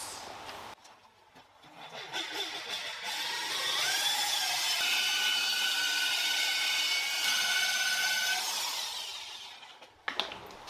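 Rotary polisher with a wool buff and 8000LS compound working the painted body of a Caterham Super Seven, a steady whirring hum that rises after a couple of seconds and holds before winding down near the end.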